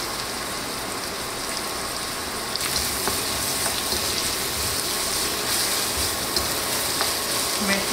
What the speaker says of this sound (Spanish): Mezclamos bien.